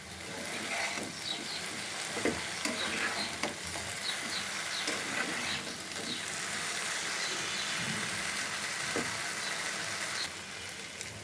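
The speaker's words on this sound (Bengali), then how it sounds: "চুলার জালটা মিডিয়াম থেকে একটু লোতে রেখে ভাজাটা করব।" Brinjal slices seasoned with salt and turmeric fry in a pan over medium-low heat with a steady, fairly loud sizzle and scattered clicks and scrapes from stirring, with no talking.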